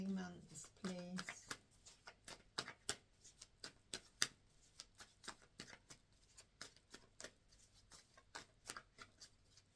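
Tarot cards are shuffled in a quiet room, a long run of crisp, rapid riffling and flicking taps close to the mic, with a brief voice at the start.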